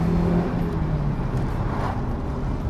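A car engine hums and pulls steadily from inside the vehicle, with road noise beneath a continuous low drone.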